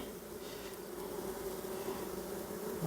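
Honeybees buzz around a hive frame in a split colony tending a queen cell, making a faint, continuous drone close by with no voices.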